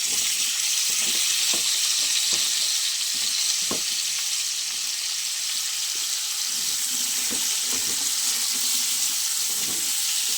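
Radhuni spice tempering sizzling in hot oil in a home kitchen pan before radish and potato go in, a loud continuous frying hiss with occasional pops and light clinks from stirring.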